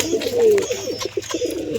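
Pigeons coo in low, rolling murmurs, several overlapping calls close by in a steady, throaty stream with no talking.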